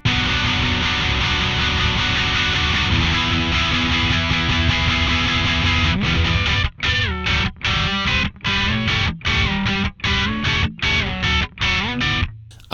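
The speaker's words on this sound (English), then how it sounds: "I have the distortion set up." Heavy distorted electric guitar through a NUX Cerberus pedalboard, sustained loud chords giving way to choppy, rhythmically muted stabs with short gaps in the second half, played alone without talk.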